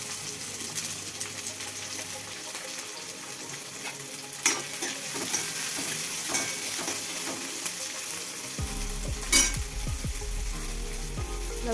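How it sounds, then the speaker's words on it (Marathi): Onion frying in hot oil in a wok makes a continuous close sizzle, with stirring scrapes and occasional sharper clatters of a spoon against the metal, while a low hum enters near the end. "गरम तेलात आपण कांदा टाकून घेऊया।"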